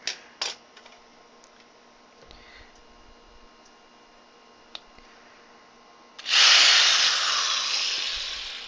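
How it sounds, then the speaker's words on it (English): A power drill bores into a plug-and-play part, a loud, sustained whirring burst that starts near the end after quieter clicks and handling noises. "Do this last drill."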